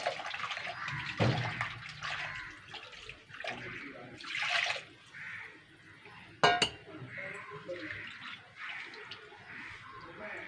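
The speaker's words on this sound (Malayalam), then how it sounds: "കുറച്ച് വെള്ളം ഒഴിച്ചു കൊടുക്കും" Water is poured into a pot of sardine curry with tamarind water, giving intermittent splashes and trickles with a few sharp clinks of utensils against the pot, close and moderately quiet.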